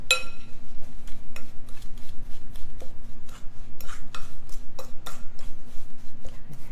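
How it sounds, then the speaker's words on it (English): Fork scraping and clinking against a bowl while butter and sugar are mashed together for a pecan pie pizza, a steady run of short metallic taps and rubs up close, with a low background hum and no talk. "So just mixing it with a fork, the butter and the sugar"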